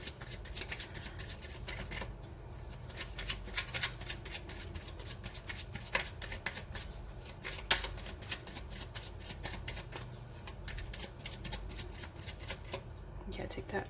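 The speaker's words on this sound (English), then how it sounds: "So let's pull some oracle cards. This is the Wild Kuan Yin Pocketbook Edition." A Wild Kuan Yin Pocketbook Edition oracle deck shuffled steadily by hand, quiet papery rustling and flicking going on without a break, with no voice over it.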